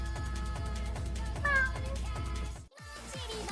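A person imitates a cat with a string of repeated vocal meows, several rhythmic calls with rising and falling pitch, loud and close, with a brief pause near the end before more meowing.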